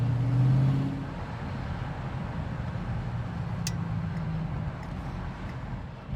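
A 1978 Aston Martin V8 Coupe drives past on a slippery road, its engine note swelling briefly and then settling into a steady, moderately distant rumble.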